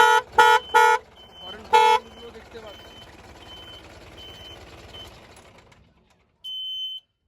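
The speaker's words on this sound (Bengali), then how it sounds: "এটা হর্ন রয়েছে" Air horn of a newly delivered truck sounds up close in three quick loud blasts, then one more, followed by a quieter running-vehicle hum and a repeating electronic beep that ends in one longer tone.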